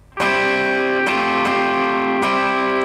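Distorted electric guitar chords, loud and close, strummed as a few sustained chords that ring out with sharp new attacks roughly every half second to second, played alone with no voices.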